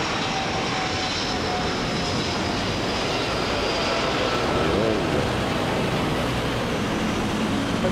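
Airliner at Manila Airport on a rainy day, a steady broad engine roar that holds at a constant level throughout, slightly distant, with no talk over it.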